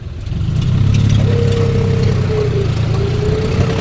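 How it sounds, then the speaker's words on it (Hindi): A tractor engine runs loud and steady while driving into a pit in a farm field being levelled, with a sustained low rumble and a rising mechanical whine over it. "वो गड्ढे में कुदा दिया मैंने अभी ट्रैक्टर"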